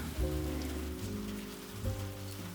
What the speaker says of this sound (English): Beyond the window, the world softens under the rain.